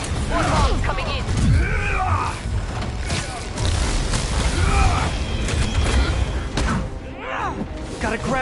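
Bomb blasts in Marvel's Spider-Man Remastered, heavy booms and crashing debris rolling through a dense, loud game mix, with character voices and music running throughout.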